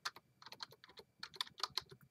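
Rapid, uneven clicking of keys on a computer keyboard, close and quiet, in short bursts with brief pauses.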